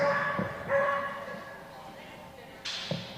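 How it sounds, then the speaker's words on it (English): At the NADAC Championships agility trial, a dog barks several times in short yips and bow-wows amid arena murmur, mixed with nearby voices. "Can we hold that dog, please?"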